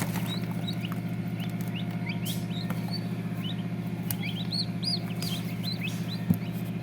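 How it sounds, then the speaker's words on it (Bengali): Turkey chicks at a poultry seller in Jamalpur, Bakshiganj peep in many quick, high chirps, overlapping and scattered across the flock, over a steady low hum of the surroundings. "এই যেগুলো টার্কির বাচ্চা, এই যে টার্কির বাচ্চা"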